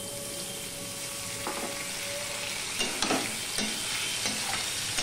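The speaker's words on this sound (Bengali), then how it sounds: "এবার এর মধ্যে দিয়ে দিচ্ছি টমেটো কুচি।" Chopped tomato tossed into potatoes frying in a pan for a simple curry, a steady sizzle with several stirring scrapes, close and moderately loud.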